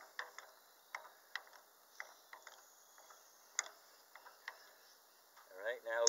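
On a tractor three-point hitch, an adjustable wrench is worked back and forth, making a faint, regular series of small metallic ticks and clicks, with brief talk near the end.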